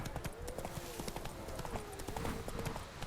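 Roach the horse galloping in The Witcher 3, a fast, continuous clip-clop of hooves with a brief whinny-like tone mixed in, close and steady under game sounds.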